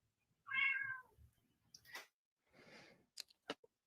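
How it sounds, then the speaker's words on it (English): A single clear, close cat meow, followed by a few soft rustles and sharp little clicks. "I was telling Huxley to let the cat out."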